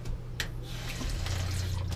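Water runs from a faucet into a stainless steel sink in a 2014 Forest River Georgetown 351 DS fifth-wheel RV, fed by a water pump, a continuous close splashing stream with a low pump hum beneath, no voices.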